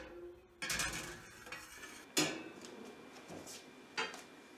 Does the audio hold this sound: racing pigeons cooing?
no